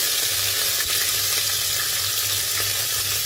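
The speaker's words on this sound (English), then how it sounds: "Let it fry it well." Ginger garlic chili paste, added to cumin seeds, fries in a pan for masale bhaat, giving a loud, steady, close sizzle that runs unbroken for the whole stretch and stops abruptly at the end, with no talking.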